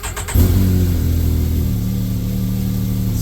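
A Can-Am X3 engine cranks and catches within a split second, then settles into a loud, steady, rumbling idle through the stock muffler, close up and without voices.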